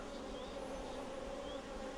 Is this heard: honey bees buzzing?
yes